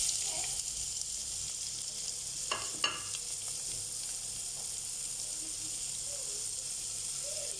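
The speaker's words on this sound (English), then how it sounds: "the bay leaf, the dried chili to fry up, and then the onions to fry" Onions frying in oil with bay leaf, anise seed and dried chili, a steady broad hiss of sizzling with a few stirring clatters near the middle, no talk.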